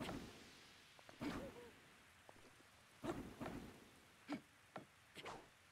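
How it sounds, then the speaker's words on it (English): Rain falling in The Legend of Zelda: Breath of the Wild, a steady soft hiss running throughout, overlaid with several short louder bursts that could be distant thunder or splashes. "It's because it's raining"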